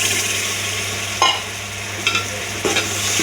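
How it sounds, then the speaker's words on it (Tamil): Ground tomato poured into a hot pan sizzles loudly and steadily for a Tamil-style brinjal and dried fish tamarind curry, with a few brief scraping stirs breaking through the continuous frying hiss. "தக்காளி அடித்து வச்சுருக்கு, அதை ஊற்றிக்கலாம்."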